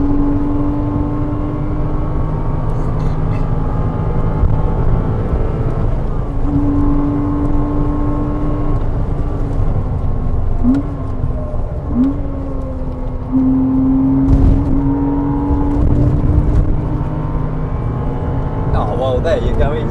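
A BMW M140i and a Porsche Cayman 987 lap the Bedford Autodrome circuit, giving a steady loud engine drone with rising and falling rev tones as gears change, while people talk over it.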